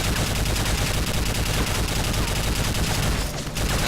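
Gunfire in Call of Duty MW3 rattles as a dense, continuous, loud fusillade of rapid shots, briefly dropping out near the end.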